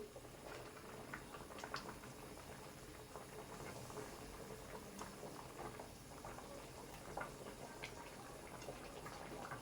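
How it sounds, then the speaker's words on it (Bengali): Liquid at a full boil in a cooking pot for hilsa fish: a steady bubbling, seething hiss with small pops, close and continuous, with no voices. "দেখুন এটা ফুটে গেছে পুরো।"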